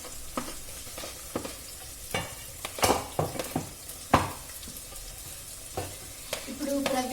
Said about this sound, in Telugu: ఇప్పుడు ప్రవీణ్ వచ్చేసి ఆయిల్లో అల్లం ముక్కలు అండ్ ఆనియన్స్, పచ్చిమిరపకాయలు వేస్తున్నారు.